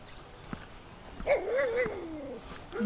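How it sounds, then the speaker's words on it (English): A dog hidden behind shrubs in a Reno, Nevada neighborhood barks and lets out a drawn-out, wavering howl-like whine at a moderate distance. Faint ticks and outdoor background are heard underneath. "There's a dog behind the shrubs."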